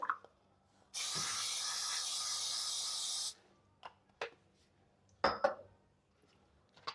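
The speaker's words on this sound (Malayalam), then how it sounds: "അപ്പോൾ നമുക്ക് എയർ ഫ്രയറിൽ ഞാൻ കുറച്ച് ബട്ടർ സ്പ്രേ ആക്കുന്നുണ്ട്" Butter spray hisses from an aerosol can into an air fryer in one steady burst of about two seconds, followed by a few light clinks and taps of handling.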